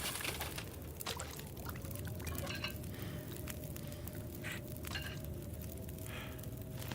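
Water poured while cooking over a campfire in the survival game The Long Dark, a steady continuous splashing stream with a faint crackle beneath, lasting the whole stretch.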